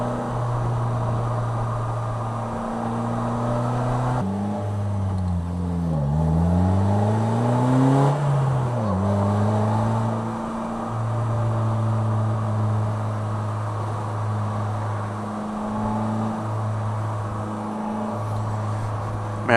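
Engine of a Polaris Slingshot on the move, holding a steady drone around 3,000 to 3,500 RPM with one dip and climb as it shifts and revs back up, close and continuous with no talk.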